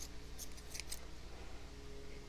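Scissors snip through pompom yarn loops: a few quick, quiet, crisp cuts close by against a faint background hiss.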